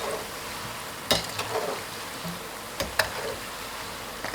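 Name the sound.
yam balls deep-frying in oil over medium-low heat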